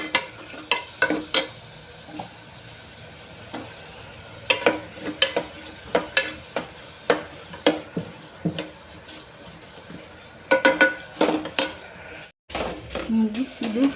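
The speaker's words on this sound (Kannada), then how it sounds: "ಫ್ರೈ ಮಾಡೋಣ್ರಿ ಸ್ವಲ್ಪ." Tomato rice frying in a pan while being stirred, with repeated metallic clinks and scrapes of the spoon against the pan over a soft sizzle, and someone talking between strokes.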